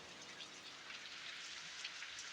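Steady rain pours outside a large rock cave, a dense even hiss of falling drops on stone, continuous and fairly close with no voices.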